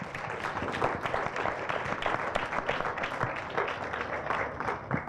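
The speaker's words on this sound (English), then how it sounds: "I would ask everybody to join me in a big round of applause for our excellent panel" Applause from the audience at a climate mobility summit session on heritage and culture, a continuous patter of many hands clapping at moderate distance, with no talking.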